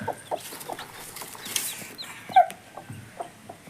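A hen and her chicks cluck and peep close by on a farm, with short scattered calls and one brighter chirp standing out. There is no speech.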